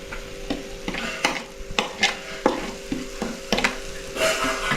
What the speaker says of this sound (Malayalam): അപ്പോൾ നമുക്ക് ഉരുളക്കിഴങ്ങത്തിന് ഇത് മിക്സ് ചെയ്തെടുക്കാം.